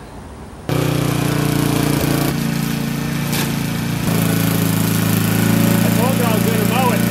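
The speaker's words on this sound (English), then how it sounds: "So now I gotta go mow the lawn." A lawn mower engine fires up abruptly after a quiet moment, then runs loud and steady close by, its tone shifting slightly partway through.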